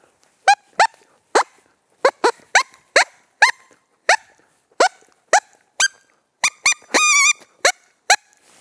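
A hand-blown predator call imitates a female coyote in heat: a series of short, sharp, squeaky yips and chirps, roughly a dozen spaced bursts with a brief wavering howl near the end, close and loud over near silence.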